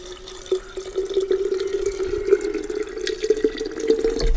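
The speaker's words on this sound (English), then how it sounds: "We'll put some water in." Water running from a tap or jug into a jar of chopped weeds, a steady close trickle with small drip-like splashes throughout.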